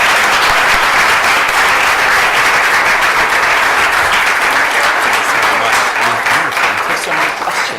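An audience breaks into sustained applause after a talk by a US assistant secretary of State, dense loud clapping that stays steady throughout with no gaps.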